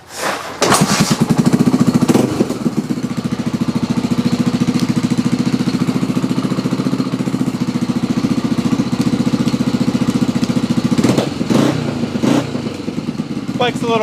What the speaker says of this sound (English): Bike's a little groggy because she's a little cold, but you can see with the idling